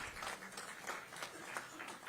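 Applause from an audience at a formal ceremony where company representatives are called up one by one, a steady wash of clapping hands at moderate distance with no voices over it.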